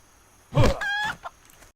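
A single close chicken squawk followed by a short cluck, brief and sharp against near silence, in World of Warcraft Classic's Westfall zone.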